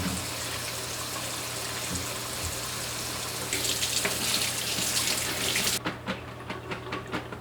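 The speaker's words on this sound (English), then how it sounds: "I'm just gonna go ahead and give my jalapenos a quick wash in cold water" Cold tap water runs steadily into a sink with a constant hiss and splash, growing brighter as jalapenos are rinsed, then the flow stops with a few drips.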